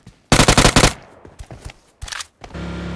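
In the game PUBG, a sharp burst of rapid automatic gunfire rattles loudly, followed by a few scattered single shots and clatter, then another short volley.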